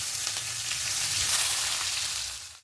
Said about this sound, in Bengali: তেলের মধ্যেই ফোড়নে দেব কালো জিরে সামান্য অল্প দেব গোটা জিরে দুটো শুকনো লঙ্কা দেব আর পেঁয়াজ কুচি দেব